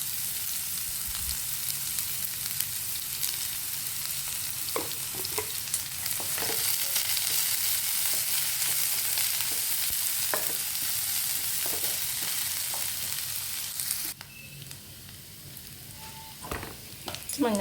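Onion, ginger, carrot and green chilli sauté in a pan with a steady close sizzle and intermittent stirring scrapes, the frying dropping quieter near the end before a few final stirs.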